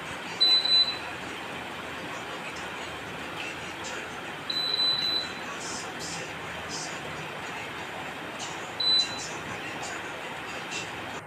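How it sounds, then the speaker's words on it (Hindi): Three short high-pitched electronic beeps from a faulty air conditioner, spaced about four seconds apart, sound over a steady background hum. "एसी ख़ुद ही बार बार जो है वो एक बीप की यानी कि एक बजर की साउंड दे रहा है"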